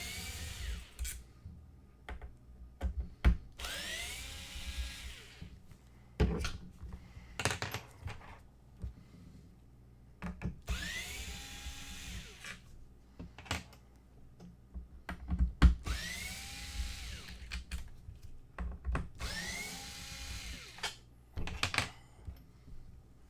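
An Xbox One X being opened with a power tool, its big screws driven out in repeated short whirring bursts separated by quiet pauses and small handling clicks.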